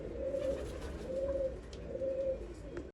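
Female pigeons offered for sale coo in three slow, regular phrases, close and fairly soft against a low background hum, with no talking.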